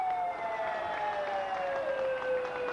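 Prank sirens blared by fans in the stands at a 1980 Japan versus Hungary football match, a continuous wailing tone gliding slowly downward, with steady crowd noise beneath.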